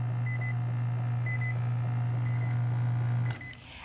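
A Zojirushi bread maker gives its add-ingredient alert, a short run of clear electronic beeps in repeated pairs over a steady low hum that cuts off near the end.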